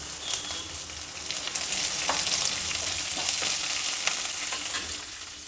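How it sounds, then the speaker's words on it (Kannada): Finely chopped medium onion frying with chana dal in a hot pan makes a loud, continuous crackling sizzle throughout, with occasional stirring scrapes and no talk. "ಈರುಳ್ಳಿ ಒಂದು ಮೀಡಿಯಮ್ ಸೈಜಿನ ಈರುಳ್ಳಿನ ಸಣ್ಣದಾಗಿ ಹಚ್ಚಿಟ್ಕೊಂಡಿದ್ದೆ ಅದನ್ನು ಹಾಕಿದ್ದೀನಿ"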